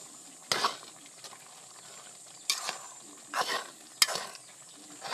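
Pure coconut milk with no water goes into a hot pan, making quiet background sizzle punctuated by four sharp scraping bursts of stirring spaced a second or two apart.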